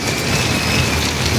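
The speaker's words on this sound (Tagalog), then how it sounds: "Guys, ang lakas ng ulan. Sobra. Bumuhos ng ulan." Heavy rain pours down steadily, a dense, loud hiss of drops hitting surfaces with no pauses.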